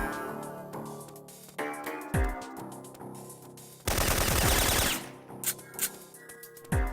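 Gunfire from the video game Syphon Filter, with several sharp shots and a sustained rapid burst of automatic fire in the middle, spaced by brief pauses.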